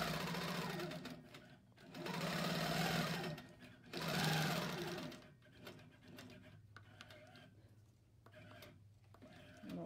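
Sewing machine stitching around a quilt block on an HQ longarm setup, running in loud bursts of rapid whirring with short pauses between, then lighter intermittent stitching and clicks.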